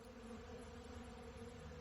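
A person imitates a buzzing bee in a comedy podcast, a steady, low, droning hum held for a couple of seconds with no words.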